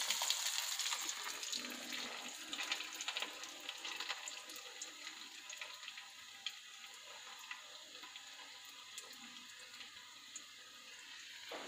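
Paneer nuggets coated in crumbs frying in hot oil, a steady soft sizzle and crackle with bright hissing throughout, fairly quiet and close, with no voices over it.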